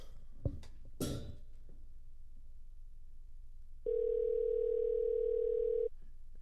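A phone call over Bluetooth rings out as a single steady electronic ringback tone lasting about two seconds, clear and close, after a few brief knocks and rustles in an otherwise quiet space.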